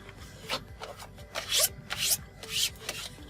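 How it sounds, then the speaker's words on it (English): A squeegee rubs and scrapes over vinyl wrap film on a Tesla Model 3/Y center console, quiet irregular strokes and swipes at close range with no talking. "And just take the squeegee just to kind of finish off some of those edges."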